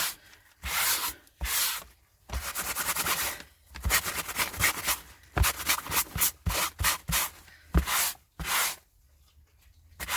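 A sanding block rubbed repeatedly over a Halloween clown figure, giving a series of close, rasping strokes in irregular bursts separated by short silences.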